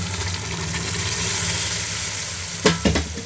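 Boiled chana dal drops into a sizzling tadka for dhaba-style dal fry, with a steady loud hiss of hot oil and a couple of brief splashing thuds near the end as the lentils go in.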